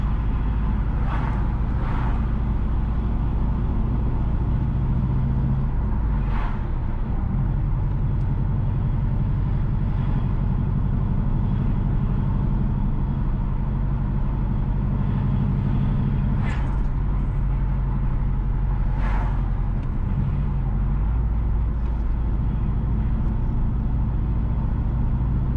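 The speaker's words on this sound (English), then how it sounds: "We are driving on the Tucker Main Road in Montego Bay City." Car driving along Tucker Main Road in Montego Bay, Jamaica, with a steady low road and engine rumble throughout and a few brief passing vehicle sounds, no talk.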